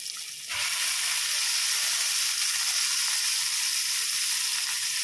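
Washed fish pieces, salted and coated in turmeric, drop into a hot pan and set off a loud, constant hiss of frying that starts suddenly and holds steady, close up.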